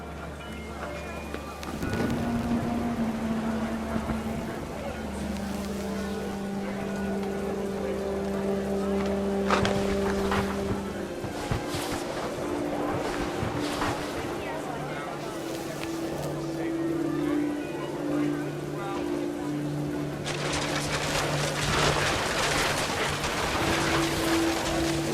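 Heavy rain in the video game What Remains of Edith Finch, a constant hissing downpour on a tent with low tonal music underneath and occasional narration over it.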